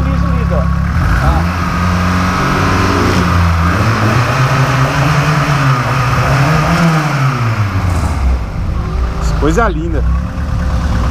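A cold Volkswagen Gol engine, turbocharged with forged internals and 80 lb injectors, idles steadily, then revs up and falls back in rising and falling sweeps, loud and close, with a brief voice near the end.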